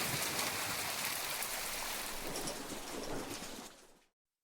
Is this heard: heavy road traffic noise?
no